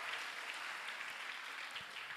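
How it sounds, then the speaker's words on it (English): Audience at an international symposium applauding as guests are welcomed to the stage, a steady wash of many hands clapping from start to finish, fairly distant and even in level. "Big applause, please."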